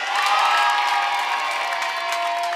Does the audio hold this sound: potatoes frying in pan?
no